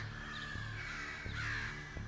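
Crows caw and scold, harsh rasping calls layered over one another against a steady outdoor background, loud and close throughout.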